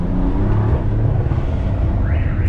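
A car alarm set off by a loud BMW M4 exhaust: heavy low engine rumble dominates, with a rising electronic alarm tone beginning near the end, close and loud.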